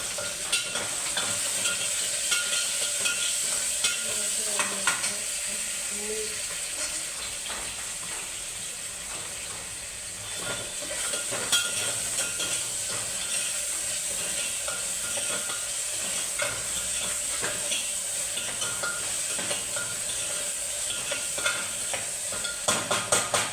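Garlic and tomatoes frying in a pan with a steady, bright sizzle, interrupted by scraping and clacking strokes of a utensil stirring, continuous and close throughout.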